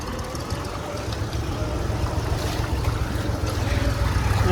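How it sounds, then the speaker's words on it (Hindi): A steady, low engine rumble runs throughout, a heavy Mahindra 585 tractor diesel idling or chugging nearby as it approaches, with a constant loud drone and no talking. "ये आ रहा है ट्रैक्टर।"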